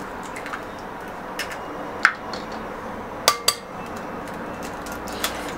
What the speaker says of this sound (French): On va commencer par casser les œufs